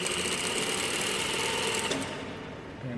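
A sewing machine runs steadily and close by while stitching a back tack on pant fronts, a continuous whirring hum with a slight change in pitch near the end.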